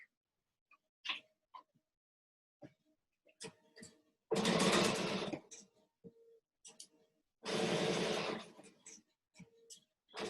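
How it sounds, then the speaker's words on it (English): A domestic sewing machine stitches chevron patchwork fabric in two short whirring bursts, each about a second long, between quiet handling clicks and faint movements. "I'm going to stitch from this end down rather than the other way"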